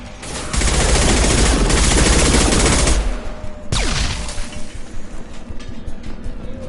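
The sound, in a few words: shotgun gunfire in Mass Effect 2 video game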